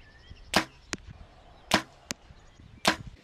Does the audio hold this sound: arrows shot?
yes